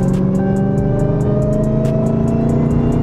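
A Dodge Hellcat Redeye idles at a gas station, its deep steady engine rumble joined by a continuous supercharger whine, loud and close for the whole stretch.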